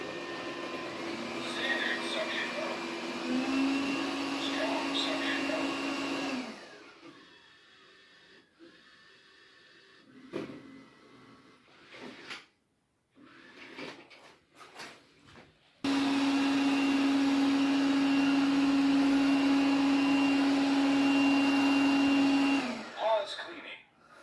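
A robot vacuum cleaner with a roll brush in its suction port runs with a steady motor whine and hum. It cuts out for several seconds amid faint clicks and handling noises, then starts again just as steadily before stopping near the end.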